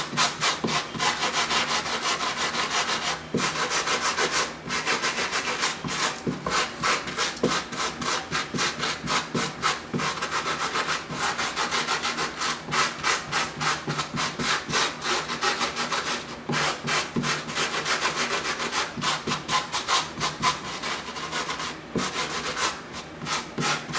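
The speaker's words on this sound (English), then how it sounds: "to make it raggy, you can either use your fingernail, which does it very easily, or you can use this brush" Frayed edges of appliqué fabric brushed with a stiff brush, a loud close scratchy rasping repeated in rapid, rhythmic strokes with brief pauses, continuing steadily for a long stretch.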